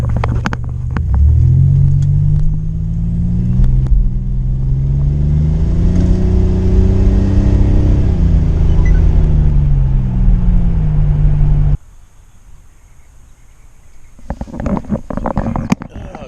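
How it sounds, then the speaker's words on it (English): A turbocharged car engine roars loudly and close, pitch climbing and falling through the gears, then cuts to quiet with faint clicks and rustling near the end. "just enjoy a little turbo sound and what it looks like to drive this beautiful car"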